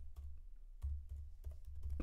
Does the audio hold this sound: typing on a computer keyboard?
yes